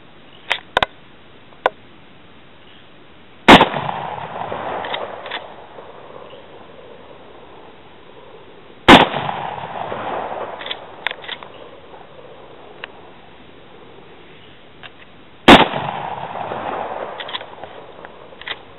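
Three sharp shots from a Marlin 336 lever-action rifle, fired outdoors several seconds apart, each a loud crack with a short ringing tail, plus a few faint clicks beforehand.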